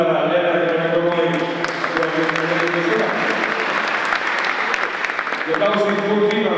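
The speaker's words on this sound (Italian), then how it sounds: "facciamo ancora un applauso per Elena che viene con noi" Applause breaks out at an Italian cycling honours ceremony for track cyclist Elena Cecchini, a bronze medallist. The clapping is sustained and even, with a voice and music audible beneath it.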